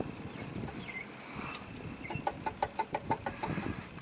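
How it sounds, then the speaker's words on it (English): A car drives past near a Nissan Frontier being checked for a squealing belt, its engine rumble swelling and fading, with a run of rhythmic clicking knocks toward the end, all fairly faint. "Wait till that car goes by"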